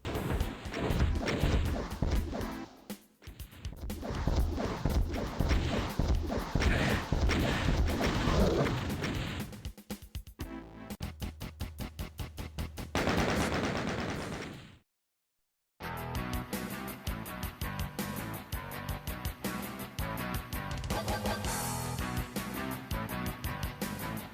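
Rocket explosions and gunfire from the video game Doom crash in dense, loud bursts over game audio, with abrupt cuts and a brief silent gap between stretches of action.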